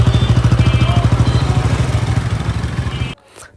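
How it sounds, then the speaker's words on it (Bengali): A Bajaj Pulsar N160 motorcycle idles close by after a service that included an air filter change, its engine thumping in a fast, even rhythm before cutting off abruptly near the end. "চেক দেওয়ার পর আপনারা এই হচ্ছে বাইকের বর্তমান সাউন্ডের অবস্থা।"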